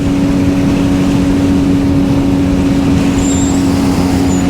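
A Suzuki GSXR 750/600 with a freshly replaced transmission and installed motor drones steadily in sixth gear at highway speed, a loud, constant engine hum mixed with rushing wind, no talk.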